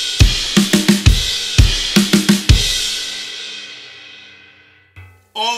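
Rapid snare drum fills from the ending of a song, played entirely on the snare: loud, close bursts of quick hits in three groups, the last ringing out into a long fading decay.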